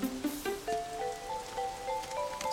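Cartoon rain pattering steadily, with light plinking drops and a soft rising musical tone running underneath, close and fairly loud with no voices.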